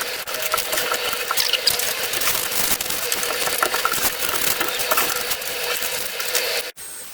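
A CNC machine cuts wooden knife scales, producing a loud, steady, close buzzing whine that holds for several seconds and breaks off abruptly near the end, with no voices.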